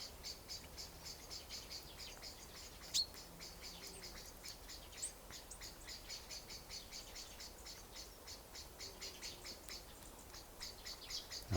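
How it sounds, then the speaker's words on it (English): Winter birds chirping away outdoors in a quiet natural setting, a steady stream of rapid, high, rhythmic chirps repeating throughout, faint and fairly distant, with no voices. "there's a lot of sounds from the winter birds chirping away"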